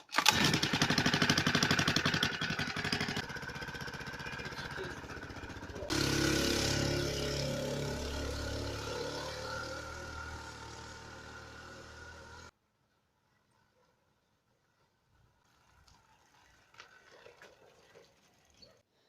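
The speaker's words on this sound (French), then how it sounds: "On va quand même faire un petit démarrage juste pour déconner." A cold Peugeot 106 petrol engine cranks and fires on a chilly morning, running loud and rough up close, then rising in a revving burst before cutting off, followed by faint clatter and knocks.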